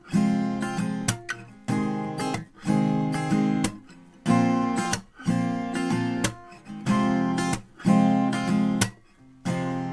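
Acoustic guitar strummed in a repeating down-up pattern, broken by sharp percussive claps between strums, steady rhythm, close and clear, no voices.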